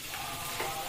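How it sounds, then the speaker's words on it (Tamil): Steady hiss of ingredients sautéing in a hot pan for fish gravy, a constant frying crackle with a brief stir near the end, close and fairly quiet. "ஒரு நிமிஷத்துக்கு மட்டும் வதக்கிட்டு ஸ்டவ் ஆஃப் பண்ணிடலாம்"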